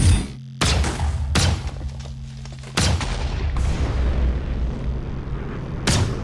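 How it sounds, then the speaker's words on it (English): An Iron Man Mark 50 suit fires its cannon in a Minecraft superhero mod: about five heavy booming blasts, each with a long rumbling tail and spaced irregularly, loud and close, with no speech. "This one has a much stronger cannon."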